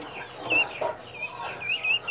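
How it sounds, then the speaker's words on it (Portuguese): Young guinea fowl chicks, about twenty days old, call close by with thin, high peeping chirps in short repeated bursts over soft background noise. "Olha as galinhas da Angola."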